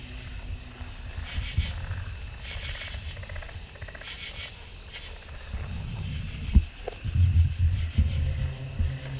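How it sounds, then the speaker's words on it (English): Frogs and insects call at night in a forest, a dense chorus of steady high chirping with lower croaks and rhythmic pulses, moderately loud and close, with occasional nearby bumps and no talk. "What do you think that is? Frogs?"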